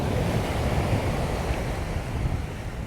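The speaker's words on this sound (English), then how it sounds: "there is a pretty strong wind coming off of this, onto this beach also" Strong wind sweeping onto Bamboo Beach (Had Mai Phai) on Koh Lanta, Thailand, a steady broadband roar mixed with crashing surf, loud and continuous throughout with no talking.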